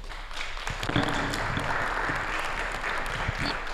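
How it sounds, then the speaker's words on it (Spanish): A conference audience at a Chetumal anniversary lecture series applauds, a fairly faint, continuous patter of clapping with a low steady hum beneath it. "Pues sí, merecido aplauso"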